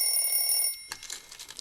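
A cell phone alarm set as a medication reminder rings with a bright electronic ringtone for under a second, then cuts off abruptly, leaving a faint hiss.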